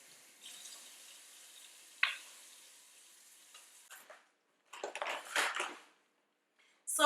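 Running water from a faucet splashes over hands being washed in a kitchen while preparing a wings platter with yams, heard as faint steady flow with louder intermittent splashing bursts.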